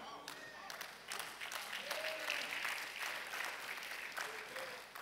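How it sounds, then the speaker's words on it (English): Audience in a church clapping during a sermon, steady applause throughout with a faint voice beneath. "Thank you for those who clapped."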